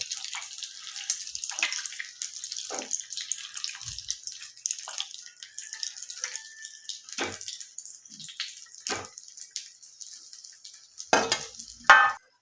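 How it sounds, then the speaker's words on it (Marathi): Sabudana appe fry in butter in an appe pan, giving a soft steady sizzle with scattered pops and crackles, and a couple of louder clinks near the end. "आप्पे फ्राय होत आहेत"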